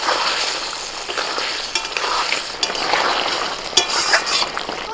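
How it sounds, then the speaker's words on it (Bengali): Fried vetki fish pieces being stirred into a sizzling sauce in a pan, a steady close bubbling hiss with occasional scrapes and knocks of the spoon against the pan, no voices. "ভালো করে মিশিয়ে নেব"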